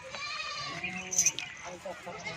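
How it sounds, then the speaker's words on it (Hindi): A goat kept for sale bleats faintly in the background among other livestock, a few quiet wavering calls mixed with some chatter and ambient noise. "और ये बकरी है"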